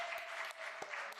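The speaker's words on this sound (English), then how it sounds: "Can we get one more round of applause for Crew of Kids for Change?" An audience at a hymn service gives a round of applause, fairly quiet and somewhat distant, a soft, continuous patter of many hands with a few sharper claps standing out.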